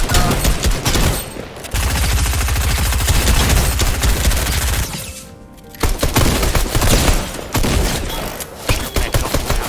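Rapid gunfire from a weapon in the video game Fortnite, loud bursts of sustained automatic shots with heavy thuds, a brief pause near the middle, then more firing.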